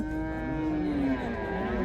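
A cow moos in one long, low, sustained call lasting nearly two seconds, close and fairly loud.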